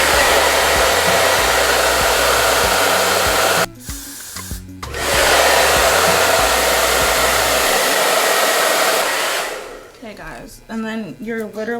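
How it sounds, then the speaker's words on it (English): Hair dryer blowing cold air to set a sleek high braided ponytail, a loud steady roar that cuts out briefly near four seconds, resumes, then fades out before the end. "you're literally going to blast it with cold air for a long time so you can make sure that your ponytail really sets"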